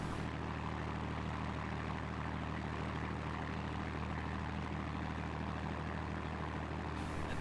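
Propeller engines of P-51A, Focke-Wulf 190A5 and Bf 109F fighter planes in a video game, a steady loud droning hum that runs unbroken throughout with no voices.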